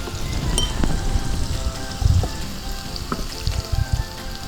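Oil sizzles and crackles steadily as half a teaspoon of turmeric powder goes into a pan for a Kerala mackerel fish curry, with a few louder bursts of spitting midway and no talking.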